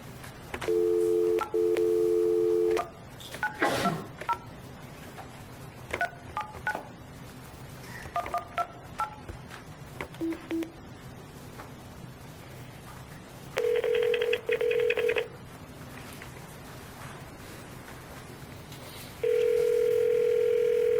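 Telephone dialing for a conference call at a school board meeting: steady dial tone bursts, a quick run of keypad tones, then repeated ringing tones, clear and fairly loud over a quiet room hum, with no speech.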